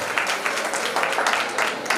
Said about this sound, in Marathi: टाळ्या वाजवून त्यांचं स्वागत करत राहा.